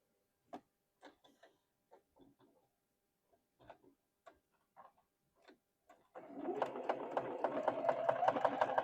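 A sewing machine stitches fabric pieces together: scattered faint clicks and taps give way to a steady, rapid mechanical whirring run of stitching near the end.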